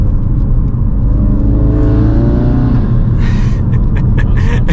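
A 2022 Ford Focus MK4.5 Facelift ST fitted with a sports catalytic converter, its engine and exhaust droning loudly up close with a rising rev and rumble, then settling into steadier running.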